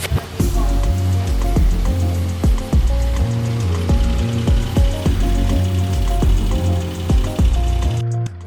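A Kawasaki KLX 230 SM supermoto motorcycle engine running outdoors, a loud, close single-cylinder thrum with rhythmic throttle blips and knocks repeating every half second or so, no speech.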